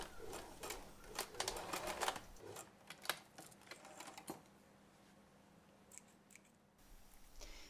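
Sewing machine stitching the mitre on a jacket sleeve, quiet rapid clicking bursts of stitching interrupted by pauses, faint and close.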